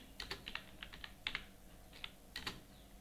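Quiet, irregular keystrokes clatter on a computer keyboard while an address is entered into accounting software, with clusters of clicks and short pauses.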